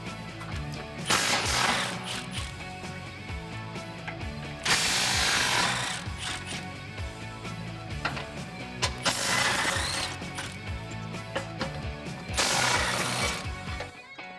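Ratcheting wrench loosening the 18mm bolts on a Jeep Wrangler JK transfer case skid plate, heard as several bursts of rapid mechanical clicking separated by brief pauses, close and fairly loud.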